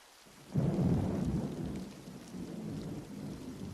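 Thunder rumbles low and heavy, rolling out over steady rain falling on surfaces, with no voices heard.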